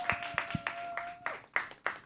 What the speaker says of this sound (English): Please give your biggest round of applause